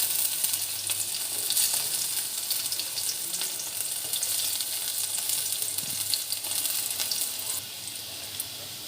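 Onion pieces frying in hot oil for a beetroot fry, a steady dense sizzle with occasional stirring, close and even throughout.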